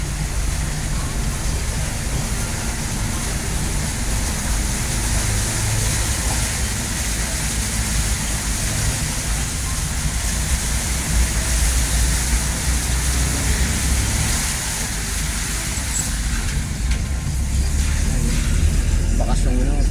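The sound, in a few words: flood water flowing in the street at high tide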